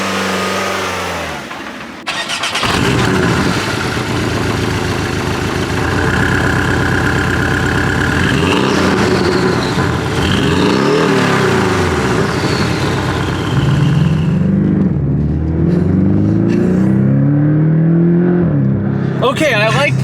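Porsche Cayman 718 with about 350 horsepower accelerating on the road, a loud sustained engine roar climbing through rising revs and gear changes, heard from inside the car with voices talking.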